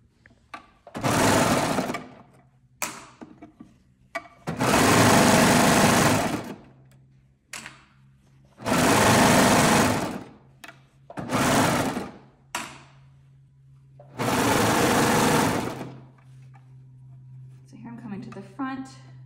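A serger runs in several loud, fast whirring bursts while stitching a sundress sleeve seam, stopping and starting repeatedly, with a person talking softly in the pauses between runs.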